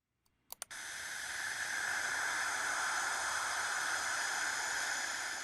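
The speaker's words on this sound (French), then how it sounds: "Ce sifflement est produit par des particules chargées dans l'environnement." Charged particles around the Cassini probe near Saturn, rendered as sound: after a few faint clicks, a steady, even hiss rises abruptly and holds constant and fairly loud to the end, with no voices.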